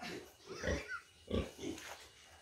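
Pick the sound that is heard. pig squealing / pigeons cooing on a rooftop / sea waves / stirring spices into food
pig squealing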